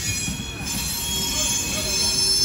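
A Conrail freight train rolls past close by, its wheels squealing steadily against the rails in a sustained high metallic whine over a low rumble for the whole stretch.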